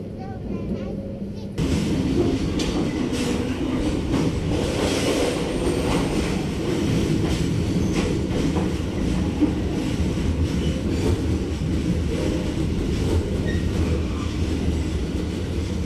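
Inside a train pulling into Cipendoy station while it rains, a steady loud rumble of the carriages and rails runs throughout, rising after a quieter opening moment.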